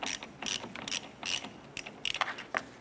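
Ratchet with a 13mm socket loosening the ground terminal nut on a 1993-1997 Ford Ranger, a close run of quick metallic clicking bursts in short irregular strokes, with no talking.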